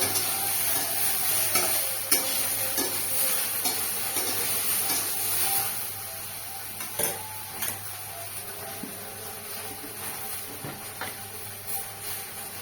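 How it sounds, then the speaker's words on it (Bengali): Okra and potatoes frying in a pan with little oil, a continuous close sizzle with scattered clicks and stirring scrapes throughout. "এবার ভালো করে ভেজে নেব"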